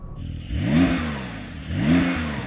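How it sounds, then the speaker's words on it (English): Porsche 911 Turbo S engine revving twice in quick succession, each blip rising sharply and falling away, loud and close with no talking. "Let's have a listen to that Porsche."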